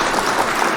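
Short burst of applause sound effect, a dense steady patter of clapping with no voices over it.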